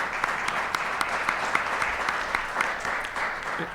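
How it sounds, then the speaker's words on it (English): A conference audience applauds its speakers with steady, dense clapping that stays moderately loud for a few seconds, with no talk over it. "Let's give another round of applause to our speakers."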